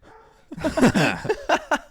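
A person imitates a dog, letting out a few short, loud barking yips in quick succession, close to the listener.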